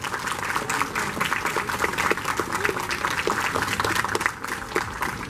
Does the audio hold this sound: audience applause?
yes